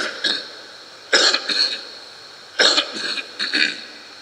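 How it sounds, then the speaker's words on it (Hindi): A priest with a cold coughs during a Hindi Catholic Mass at Holy Spirit Church, Moodbidri, several short dry coughs in clusters of two or three, close and fairly quiet in a still room. "खांसी आती है तो मुझे माफ़ कर लेना।"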